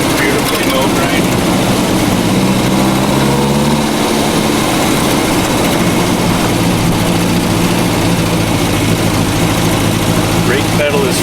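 A car engine runs loud and close while driving, a steady droning hum that shifts pitch partway through as gears change, with someone talking over it.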